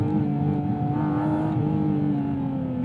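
A Manthey Racing Porsche GT4 RS engine holds a steady, loud drone under throttle, a continuous near mechanical hum with harmonic whine running unbroken throughout, no voices.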